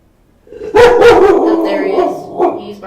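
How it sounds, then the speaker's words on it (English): A pet dog barks loudly indoors at home, several sharp, close barks in quick succession, then a sustained yelping bark that trails off. "He's barking more loudly."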